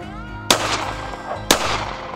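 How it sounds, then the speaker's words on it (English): Two sharp handgun shots fired at a target from 10 yards, about one second apart, each a loud close crack with a short ringing tail, no talking. "And those are my first eight shots right here,"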